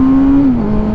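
A street motorcycle engine hums steadily up close, its pitch sagging slightly partway through, with no voices.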